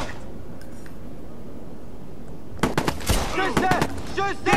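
After quiet background, a rapid burst of gunfire in Watch Dogs crackles with repeated sharp shots and ringing clinks, loud and close, during a shootout in a prison basement.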